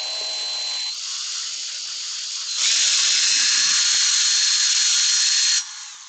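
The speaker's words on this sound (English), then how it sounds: "you can drill WoodUbend mouldings." A drill bores knob holes through WoodUbend mouldings glued onto a bedside table drawer, making a close, high-pitched whirring whine that rises to a louder, harsher grind for about three seconds before easing off. No voices are heard.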